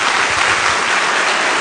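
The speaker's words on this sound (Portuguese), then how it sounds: "Dá uma salva de palmas a Jesus." Church congregation giving steady, dense applause for Jesus during a sermon, a continuous wash of many hands clapping at even loudness throughout, with no voices standing out.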